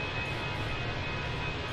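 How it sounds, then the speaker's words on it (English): A Fenix A320 airliner in Microsoft Flight Simulator hits turbulence, heard as a steady, broad cabin and engine rumble that stays even and moderately faint, with no voices. "Sounds like the aeroplane's fighting some turbulence."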